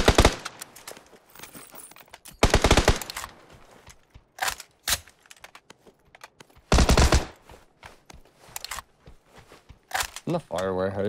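A Tommy gun fires in PUBG, with several loud bursts of rapid automatic shots separated by pauses, close and sharp, while players talk between and over the volleys.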